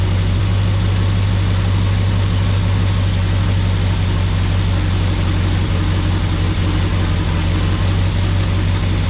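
A big block 390 FE V8 in a 1974 Ford truck idles steadily, a loud, close, low rumbling drone that stays constant throughout with no talk.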